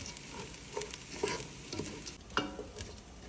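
Food fries in a pot with soft sizzling under repeated scraping and stirring strokes, close and moderately loud, for vegetable fried rice.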